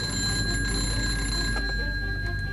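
An electric alarm bell at a wartime German jet fighter airfield rings continuously, a steady metallic ringing heard from nearby with no voices.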